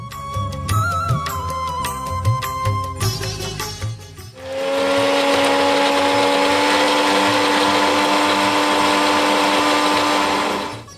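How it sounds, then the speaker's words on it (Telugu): An electric mixer grinder whirs loudly and steadily, grinding coconut for payasam in a TV kitchen, and it starts up after a stretch of background music. "మిక్సీ పట్టుకుని వచ్చేసేయండి"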